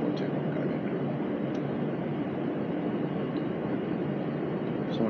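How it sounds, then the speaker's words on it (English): Steady, loud cabin rumble of an airliner taxiing toward runway 24 at Kano, a continuous broadband engine and rolling drone with no speech. "we are taxiing towards runway 24"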